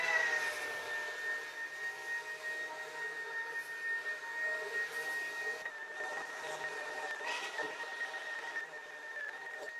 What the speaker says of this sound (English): Just gonna take this blower that we blew everything off with. Just lightly blow everything into the joints.